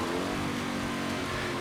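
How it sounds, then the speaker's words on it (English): Car engines revving hard in SpongeBob SquarePants: Battle for Bikini Bottom (2003 PC), a steady, dense engine drone that holds unbroken for the whole short stretch without talk. "you can hear these guys are revving the cars awful heavy"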